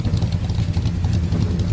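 A 1965 Chevrolet Impala SS with a 396 V8 rumbles steadily up close, its deep, even engine note filling the clip without speech.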